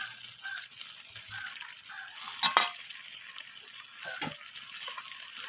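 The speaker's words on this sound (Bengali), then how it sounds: "এরপর আমি এখানে ভেজে রাখা আলুগুলোকে দিয়ে দেব।" Pre-fried potatoes tipped into sizzling chicken curry in a pan: a soft continuous frying hiss broken by a couple of sharp clatters and scraping stirs, close by, with no talking.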